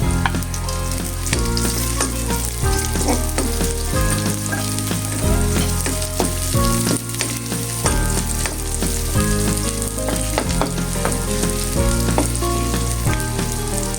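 Garlic and onion sauté loudly in a pan for adobong sitaw, a dense, steady frying hiss with scattered stirring clatter throughout and a low background drone, no talking.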